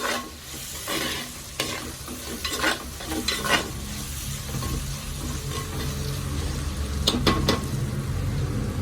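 Chili powder and turmeric go into hot oil in a pan for a Kerala mackerel curry, with continuous sizzling, and a spoon scrapes and stirs in repeated close strokes.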